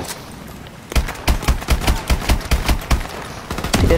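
Automatic gunfire crackles in a street firefight in Call of Duty: Advanced Warfare, with a string of sharp, close shots at an uneven rapid pace over a low background rumble and no talk.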